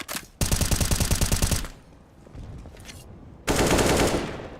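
Bursts of automatic gunfire in a Counter-Strike match, two long loud rapid volleys separated by a quieter gap of scattered shots and clatter, close up.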